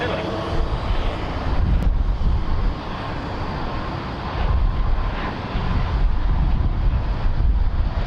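A Dash 8 turboprop arriving at Sydney Airport, heard as a steady, loud engine roar with wind buffeting the microphone throughout.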